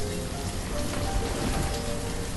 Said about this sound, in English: as it pours down with rain in the sleepy little zombie-like town of Eldorin